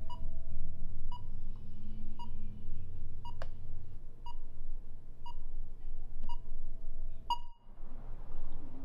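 Timer beeping in short, evenly spaced electronic beeps about once a second over a low steady hum, with a sharper louder tone near the end as the background drops away.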